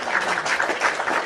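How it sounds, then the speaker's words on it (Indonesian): A church congregation breaks into a short burst of applause at a sermon, dense clapping from many hands that stays even and fairly loud throughout. "tepuk tangan dulu untuk Tuhan"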